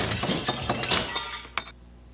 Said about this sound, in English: breaking glass is just plain fun